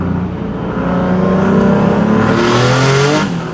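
A 600-horsepower car revs hard, its exhaust rising in pitch as it accelerates, loud and close from inside the cabin, then easing off near the end.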